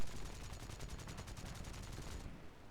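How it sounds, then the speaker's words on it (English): Rapid, sustained machine-gun burst from an A6M5 Ko fighter in War Thunder, a dense rattling stream of shots over loud engine roar, cutting off just before the end. "I fire machine guns to scare him off."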